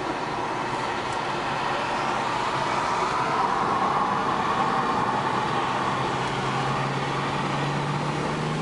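A BMW 335i sedan drives at speed around the Laguna Seca track, a steady loud drone of engine and road noise from inside the car, with another 335 drafting close behind.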